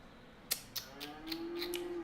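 Cattle in the Cities Skylines video game moo once in a long, low call, with a few sharp clicks just before it, all heard faintly and with no talking.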